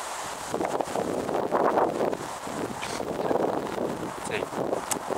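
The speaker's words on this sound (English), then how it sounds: "I hope the wind noise hasn't been a bit annoying," Wind gusting outdoors during a woodland mushroom-foraging outing, buffeting the microphone with a steady broadband rush and rustle that swells and eases across the clip, with a person speaking over it.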